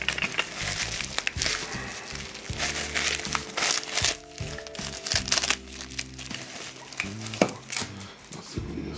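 Crinkling plastic bags and packaging from a parcel of old postcards rustle close up in irregular bursts as it is unpacked, with occasional thumps and handling noises throughout.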